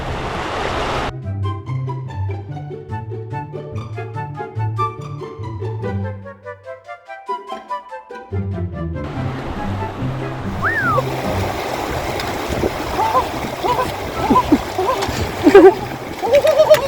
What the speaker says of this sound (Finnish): Oikeaoppinen joen ylitys.